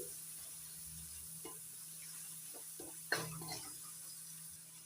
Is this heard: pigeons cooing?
no